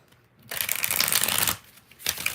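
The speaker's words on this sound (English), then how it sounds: "let's do 6 shuffles" Tarot cards being shuffled by hand, a loud close riffle lasting about a second, then a brief pause and a shorter second burst of shuffling.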